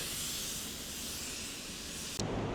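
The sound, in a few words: paint spray gun spraying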